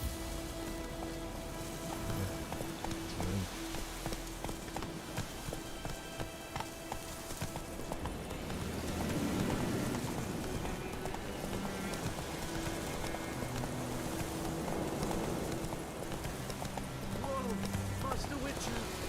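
Geralt's horse Roach clip-clopping along in The Witcher 3, a steady hoof rhythm under game music and ambient rain-like noise, with voices speaking over it.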